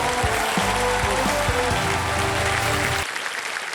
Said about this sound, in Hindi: जोरदार तालियां इनके लिए अगेन।